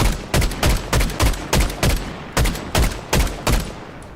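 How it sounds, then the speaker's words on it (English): Gunfire in Fortnite, about a dozen sharp evenly spaced shots in quick bursts, loud and close with no voices. "I hear gunshots this way."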